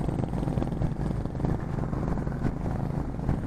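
A group of Honda Highness motorcycles on a club ride through the Charmadi ghat produces a continuous, loud low engine rumble and roar, steady throughout with no talking.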